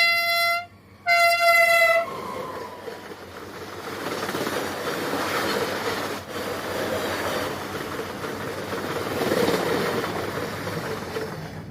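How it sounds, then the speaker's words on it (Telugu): A train rushes past a railway level crossing, opening with a few loud horn blasts before a steady, sustained roar and rattle of the passing carriages, close and continuous to the end. "బండికి రైట్ ఇవ్వడానికి బయటకు వచ్చేలోపు ట్రైన్ అనేది చాలా స్పీడ్గా వచ్చేస్తుంది"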